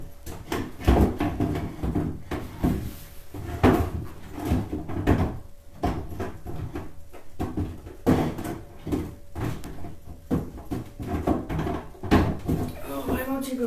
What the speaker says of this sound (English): So we're gonna put the drawer back in.